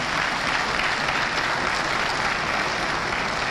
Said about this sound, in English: I think the President deserves a better round of applause than that